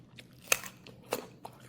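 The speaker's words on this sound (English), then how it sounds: "Can you hear the crunching?" Crisp bites into crunchy, creamy food sound close to the mic, two sharp crunches followed by softer chewing crackles, with no talking over them.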